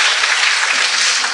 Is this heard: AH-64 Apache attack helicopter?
no